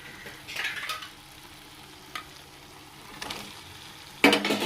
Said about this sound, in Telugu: ఇప్పుడు ఎగ్స్ వేసుకుందామండి.